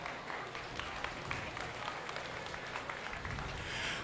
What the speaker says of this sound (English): If everybody could give this group of steer exhibitors a round of applause